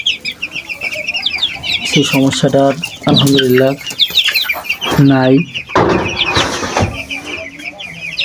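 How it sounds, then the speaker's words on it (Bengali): Chickens cluck repeatedly and close by in a poultry shed, bright clucks and calls rising over steady farmyard noise while someone talks over them. "এখন সব মুরগি সুস্থ, অনেক ছোটাছুটি করছে"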